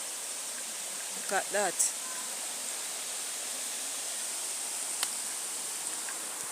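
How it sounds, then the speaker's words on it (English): A river flows with a steady, broad rushing hiss that stays constant throughout, with a person briefly speaking over it. "River sounding so nice."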